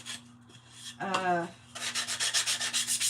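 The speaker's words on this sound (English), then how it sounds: "I'm just sanding them because, like, the wood from Dollar Tree is always" Rhythmic abrasive rubbing of sandpaper on unfinished Dollar Tree wood, a burst of quick strokes after a brief pause, close and fairly loud.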